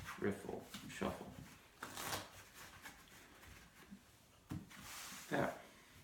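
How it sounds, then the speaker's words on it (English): A dealer at a casino table shuffles playing cards with riffles and strips, giving soft quick fluttering bursts and light shuffling rustles at low volume, spaced across a few seconds without speech. "we riffle, strip, and then riffle, and shuffle"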